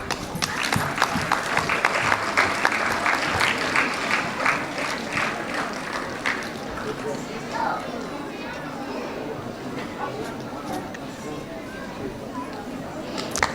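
A crowd claps for schoolchildren at a school annual day, a dense burst of applause that fades into murmuring chatter while a voice speaks over it.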